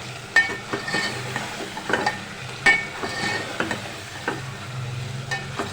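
Beef biryani masala being stirred in a pot, with repeated scraping strokes of a spoon against the metal over a steady close sizzle of frying.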